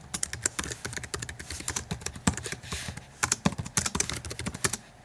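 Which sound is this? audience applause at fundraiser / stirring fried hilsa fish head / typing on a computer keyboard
typing on a computer keyboard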